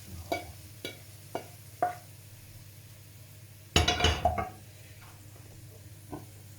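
Fried Albanian-style liver is set onto a plate, with several sharp clinks of dishes and cutlery spaced out, then a louder cluster of clatter midway over a low steady hum; no talking.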